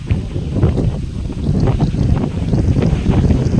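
Gusty wind buffets the microphone in a steady low rumble, with faint splashing or knocking sounds mixed in.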